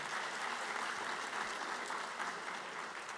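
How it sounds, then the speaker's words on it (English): Steady, even applause from a ceremony audience for school board members at a Henry County Schools Teacher of the Year event, a continuous soft patter of many hands heard from a distance. "big round of applause for our board members"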